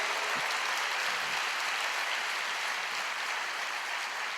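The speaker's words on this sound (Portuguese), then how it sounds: "você pode aplaudir o Senhor aí?" A church congregation applauding during a worship service, a steady, even wash of clapping that holds for several seconds without a break.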